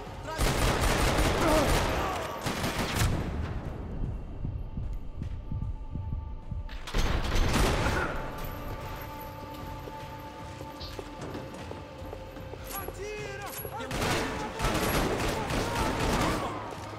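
Gunfire in the Max Payne 3 video game, a dense rattle of rapid shots in three loud bursts with quieter stretches between them, under game noise.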